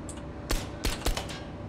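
A weapon reload in the tactical shooter Ground Branch: a handful of soft mechanical clicks and clacks, three or four distinct handling noises spread over about a second, fairly quiet against faint background ambience.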